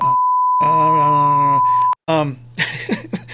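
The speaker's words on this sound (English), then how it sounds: "my swear filter beep" A swear-filter censor beep sounds during a live sports-league talk show. A steady pure tone runs for about two seconds over a speaking voice, and talk carries on after the beep stops.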